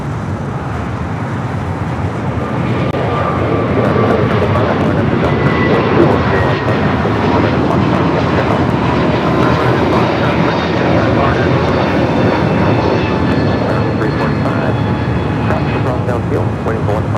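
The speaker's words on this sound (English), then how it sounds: "the A321neo heading to Chicago O'Hare up next for takeoff" Airbus A321neo jet bound for Chicago O'Hare taking off at LAX, a loud broad engine roar that holds steady for the whole stretch with a rising tonal whine above it; faint voices murmur underneath.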